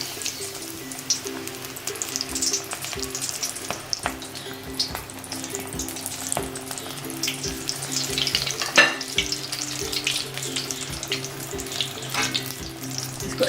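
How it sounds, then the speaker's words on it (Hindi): Batter-coated potato and onion balls deep-fry in very hot oil, a dense continuous bubbling sizzle with occasional stirring clinks and pops, close and fairly loud throughout. "अच्छे तरीके से डिप करके अब हम इसको फ्राई करेंगे"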